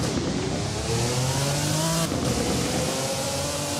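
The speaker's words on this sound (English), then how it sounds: "Startup is clunky, kind of what you expect from a car from 1991." Jaguar HCR15 from 1991 in the Driving Empire video game, its engine running with a steady loud drone and rising, slightly clunky revs throughout, no talk.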